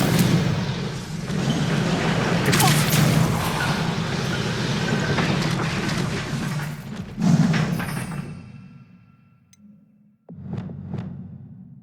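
Confringo fire-spell blasts in Hogwarts Legacy during a fight in Horntail Hall: loud, continuous rumbling booms and thuds for several seconds, then a lull and a short, sharp final burst.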